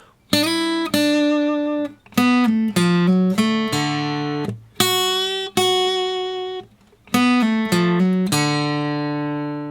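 Twangy country-style slide guitar licks with gliding pitches and ringing sustained notes, played alone in short bursts separated by brief pauses.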